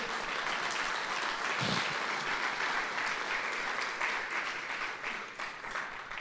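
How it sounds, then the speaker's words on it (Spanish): Sustained applause from a church congregation, dense and steady clapping filling the whole stretch, fairly loud and close. "Dele palmas al Señor"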